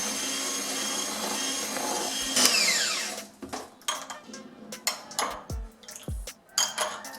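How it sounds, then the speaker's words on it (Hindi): An electric beater whirs through powdered sugar and butter cream mixture in a bowl, a sustained mechanical drone that drops off, followed by a series of sharp clinks and knocks of the beaters against the bowl. "अब इसे बीट करेंगे।"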